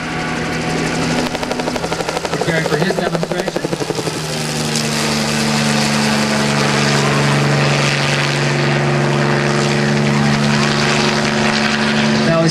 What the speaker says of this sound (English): Behind you, you'll see the Coast Guard HH-65 Dolphin aircraft coming up,